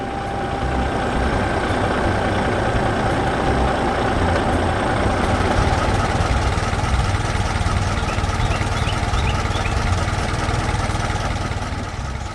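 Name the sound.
blue farm tractor engine running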